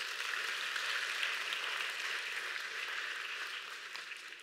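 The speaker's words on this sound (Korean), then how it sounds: "박수 한번 주세요" Audience applause at a talk event, a steady broadband patter of many hands clapping together that holds a fairly even level and tapers off slightly near the end.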